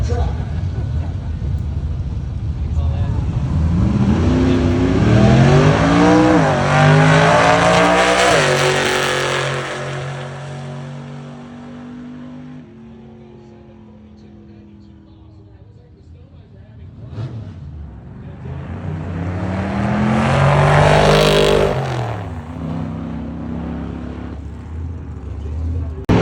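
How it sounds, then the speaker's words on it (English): A 1964 Oldsmobile Jetstar 88 revs loudly at a drag race event in two long pulls, the pitch sweeping up and falling back, with someone talking over and between the revs. "That is a 1964 Oldsmobile Jetstar 88, the first year of that body design."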